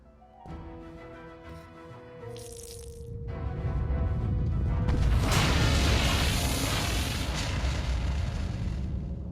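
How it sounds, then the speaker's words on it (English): A low rumbling blast swells and lingers as a broad roar after a few soft synthetic tones, an explosion in the game Sam and Max: Beyond Time and Space. "Yes, bigger explosion."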